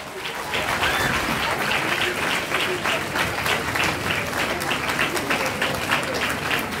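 A lecture hall audience gives the guest speaker a sustained round of even, full applause, many hands clapping together at a steady level for several seconds.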